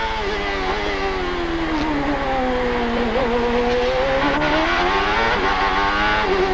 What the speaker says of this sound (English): Watch how hard this thing accelerates once he gets back onto the old section of the track, Paul